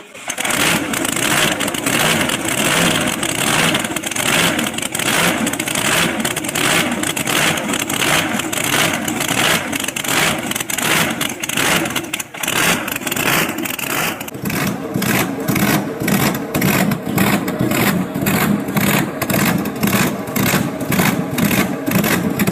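A supercharged 610 cubic inch engine in a 1931 Chevrolet Coupe runs loud and close, a continuous rough pulsing roar throughout with a brief dip midway before the rhythmic firing resumes.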